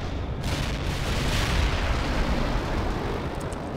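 An M1 Abrams tank cannon fires in the World in Conflict battle game. The blast is loud and booming, spreading into a long, continuous rumble of explosions with no talk over it.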